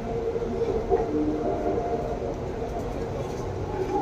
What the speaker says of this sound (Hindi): ट्रेन बहुत स्पीड चल रहा है